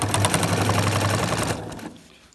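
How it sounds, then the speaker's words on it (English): A sewing machine runs fast while stitching down quilt binding on a star block, a loud close rattling hum of rapid needle strokes that stops abruptly after about a second and a half, leaving a fading quiet tail. "I'm stitching up my binding."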